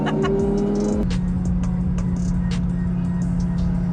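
A twin-turbo Lamborghini Gallardo engine idling with a deep, steady rumble after a brief rev settles down, loud and close throughout.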